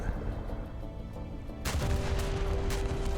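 Naval guns from the USS Alaska, a large cruiser, fire a salvo in the War Thunder naval battle: a low rumbling backdrop breaks into one sudden loud broadband boom followed by sustained heavy rumble and crackle.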